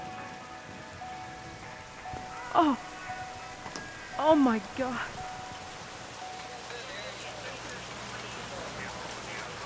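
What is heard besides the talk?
rain falling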